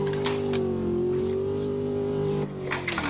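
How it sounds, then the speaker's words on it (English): In a racing video game, a Chevrolet Corvette C6 coupe engine holds a loud, steady high rev near redline in second gear while climbing a hill. The sound drops briefly with a gear shift near the end. Alone, with no talking. "And just redline second up the hill."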